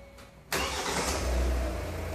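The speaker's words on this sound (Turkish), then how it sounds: "Çalıştırın arabayı." A 2021 Hyundai Tucson engine cranks and catches abruptly, jumping from near quiet to a loud, steady idle with a deep low rumble, recorded close up.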